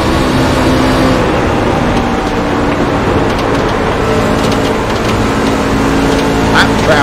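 Lapped race cars roar past in traffic, a loud continuous engine drone with rising and falling passes, while a commentator talks over it.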